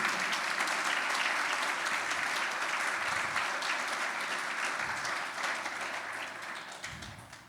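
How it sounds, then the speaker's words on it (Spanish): Congregation in a church applauding for Jesus Christ, dense sustained clapping from a crowd that fades slightly toward the end, with no voices over it. "Vamos a darle un fuerte aplauso a Jesucristo."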